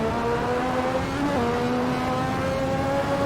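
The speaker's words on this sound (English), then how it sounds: "Turbo noise is just unbelievable." Lotus 98T turbo Formula 1 car in the Assetto Corsa racing game, its engine droning steadily and loud throughout, with a brief dip in pitch midway as it shifts before holding a high, continuous tone.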